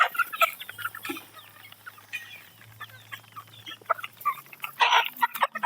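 White hatch chickens cluck in short, scattered bursts with quieter stretches between, a low hum running beneath and the last second busier and louder.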